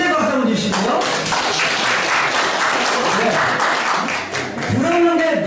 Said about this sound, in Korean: 잘 쓰시라고 경례 박수 한번 주시고요.